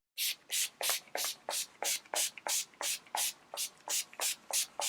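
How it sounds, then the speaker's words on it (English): Makeup setting spray misted from a pump bottle onto skin, about a dozen quick, evenly spaced hissing spritzes in a steady rhythm, close and fairly soft, with no voice. "just a bit of setting spray to make sure all the makeup soaks into the skin"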